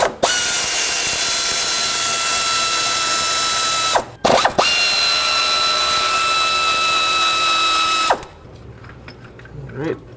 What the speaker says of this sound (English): Now grab your 10mm socket and undo the two bolts.